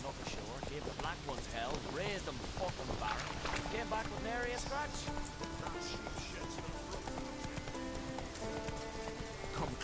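Roach the horse in The Witcher 3, hooves clip-clopping at a gallop under almost continuous talking, with a neigh and some game music in the background.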